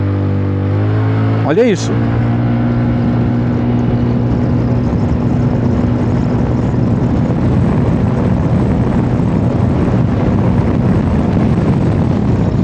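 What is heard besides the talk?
Zontes 368G motorcycle engine revving with Malossi kit and remap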